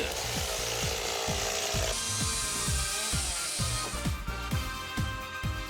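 A tree trunk being cut and removed gives off close woody creaks and rubbing, with a series of regular low knocks and a brighter grinding rasp that shifts partway through; no one speaks.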